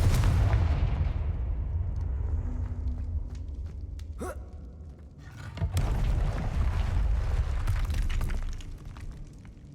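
The Confringo fire spell going off in the Hogwarts Legacy video game, a crackling burst with a rising whistle and then a heavier explosive boom, set over a constant rumbling game ambience with no speech.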